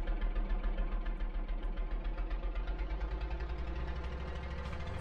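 Car engine idling steadily in the Dusty Trip video game after refuelling, a continuous low rumble with a faint rhythmic knock, held at an even loudness throughout with no other sounds.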